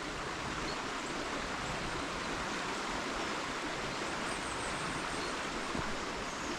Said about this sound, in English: Birds tweeting away, and just the sound of trickling water.